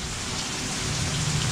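Steady rain falls outdoors as water rises nearby, a dense, even hiss with a low rumbling undertone, close and continuous throughout with no voices.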